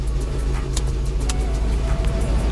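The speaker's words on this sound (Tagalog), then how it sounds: "Start nyo muna yung sasakyan, then i-on nyo yung aircon." A Hyundai Getz idles steadily with its air conditioning switched on, giving a close, continuous low engine hum and drone with a faint fan whir.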